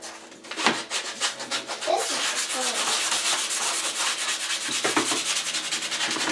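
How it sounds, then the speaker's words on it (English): Sandpaper rubbed back and forth over a wooden photo frame, a steady, close scratchy rasp of repeated strokes running almost continuously, with a few knocks near the start. "When you sandpaper, see all the little dust?"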